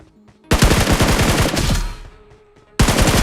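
Rapid automatic gunfire in the BGMI mobile battle royale game, a loud sustained burst of about two seconds followed by a pause and another burst starting, with no talking.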